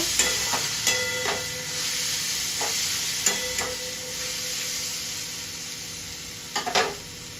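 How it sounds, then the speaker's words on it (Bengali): Ginger garlic paste with turmeric and salt stirred and fried in a pan for a potato and pointed gourd curry, a continuous loud sizzle with scattered spatula scrapes and taps, no voices. "আদা রসুন পেস্ট, একটু নেড়ে নেব"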